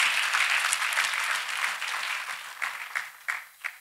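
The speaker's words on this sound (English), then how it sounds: "clap hands for Jesus Christ" A church congregation claps for Jesus Christ after a healing testimony, sustained applause that breaks up into scattered, separate claps as it dies away.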